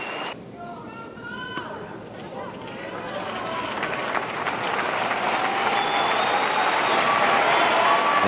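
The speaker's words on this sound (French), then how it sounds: "Rafael Nadal reçoit une belle salve d'applaudissements avant de servir" Spectators at a tennis match in Montréal applaud as a player prepares to serve, the clapping swelling from moderate to a loud, sustained roar, with a commentator's voice talking over it early on.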